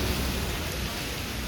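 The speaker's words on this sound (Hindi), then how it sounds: "देखो कितनी तेज़ है बारिश" Heavy rain pours down in a dense, continuous roar while a truck is loaded with bricks, loud and close with no break.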